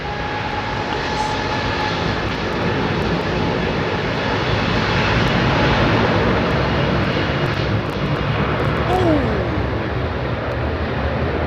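A large airliner taxis at London Heathrow Airport, its engines a steady, loud roar with a rising whine layered over continuous broadband rumble, close and unbroken throughout.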